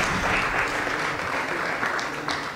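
An audience at a ceremony honouring top baccalaureate students in Bargny applauds M. Ngom, a loud, steady crowd clapping that fills the whole moment without pause.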